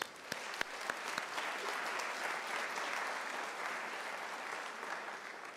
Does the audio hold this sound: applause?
yes